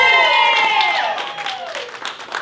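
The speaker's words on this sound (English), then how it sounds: "Can we all clap it up for Teresa, guys?" A comedy club crowd in Colville, Washington claps and cheers for Teresa, a brief burst of applause with whoops and voices rising over it, loud at first and then thinning.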